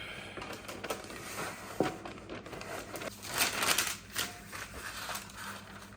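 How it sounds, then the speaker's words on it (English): Baking paper being crinkled and pressed into cake tins, soft crackling and rustling bursts in irregular handfuls, close and fairly quiet, with a sharp tap partway through. "So we line it with baking paper."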